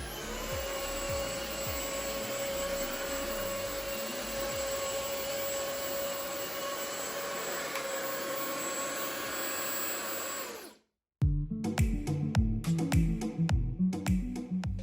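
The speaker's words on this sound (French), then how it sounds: "L'aspirateur se met en mode automatique à chaque démarrage." Jimmy H8 Pro cordless vacuum cleaner running in automatic mode, a loud steady whine and rush held for about ten seconds, then cut off abruptly and followed by knocks and clatter.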